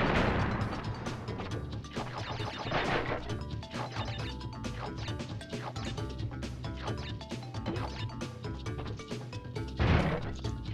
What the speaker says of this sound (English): I'm hanging around just to make sure that this crate actually detonates.